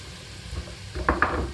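Onions and garlic sizzle in a hot pan while butternut soup is being made, a quiet frying hiss that swells near the end with a couple of sharp utensil clinks against the pan.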